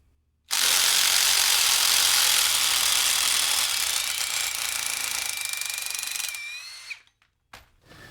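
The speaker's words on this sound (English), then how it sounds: "remove that 6-inch interior construction fastener" An impact driver hammers continuously for about six seconds while backing out a 6-inch interior construction fastener, a loud dense rattling that trails off as the screw comes free, then a couple of short bursts.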